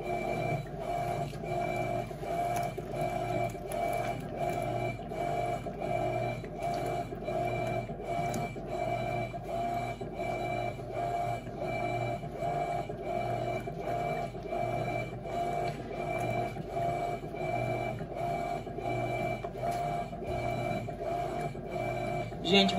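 An Electrolux LT12F 12 kg turbo washing machine runs with a steady low mechanical hum and a faint regular ticking rhythm, quiet and continuous throughout with no voices.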